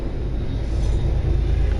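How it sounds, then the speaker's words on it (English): Train passing by, a steady low rumble that holds level and close throughout, with no talk over it. "that sounds like I got a train going by here."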